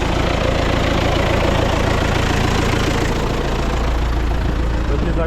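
A loud, steady tractor engine drones continuously at close range during soybean field cultivation, a dense rumbling roar with no breaks or changes in pace.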